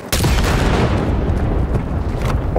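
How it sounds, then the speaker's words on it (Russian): A loud, heavy in-game explosion in Cyberpunk 2077 bursts suddenly, then a sustained booming rumble with crackling debris fills the remaining seconds. "Он взрывается? Да, взрывается."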